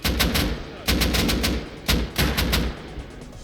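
Automatic gunfire in the video game Rust, several loud, rapid bursts of shots in close succession with brief pauses between volleys, heard near and without talk.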